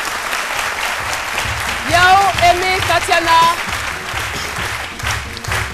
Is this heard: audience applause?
yes